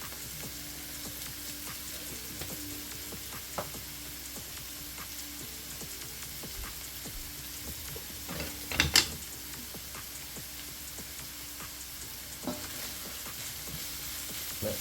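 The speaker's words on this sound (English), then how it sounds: "Let that go and saute a bit." Pimento berries and thyme sautéing in a pot for a seafood boil, a steady soft sizzle and frying hiss throughout with a brief louder crackle and stir near the middle, no voices.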